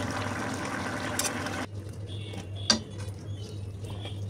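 Catla fish curry is ladled from a cooking pot into a bowl: a loud metallic scrape and clink of a spoon against the pot, soft liquid pouring, then one sharp clatter and faint taps, all close and without voices.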